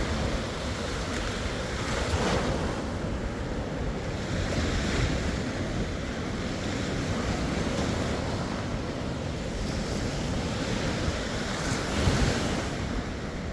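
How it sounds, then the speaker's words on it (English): Ocean surf rolling onto the shore at Panama City Beach, a steady broad wash of breaking waves with wind buffeting the microphone, no talking. "So I'll do a little quick video of the beach."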